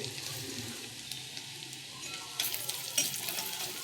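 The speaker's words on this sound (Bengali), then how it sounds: "লঙ্কা রসুনটাকে আমি ভালো করে লাল করব" Dried red chillies and garlic fry with whole cumin seeds in a pan over a lowered gas flame, a soft, steady sizzle with light stirring scrapes that grow briefly louder and sharper near the end, heard without speech.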